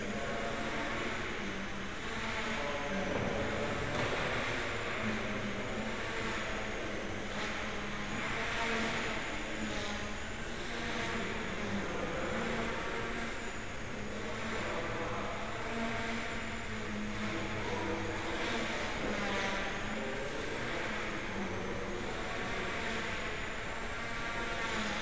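A Blade mCPX RC helicopter fitted with a Wowhobbies 915 brushless motor on a 10T pinion and a Helimax 10-amp ESC runs indoors at 70% throttle and pitch, giving a steady, loud, continuous whine with rotor hum throughout.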